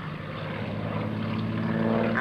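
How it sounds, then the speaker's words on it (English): Propeller stunt plane at a 2004 military airshow, its engine droning steadily and growing slightly louder as it turns back toward the crowd, with no one speaking. "as he actually does a wing over to turn the plane back around, coming back towards us"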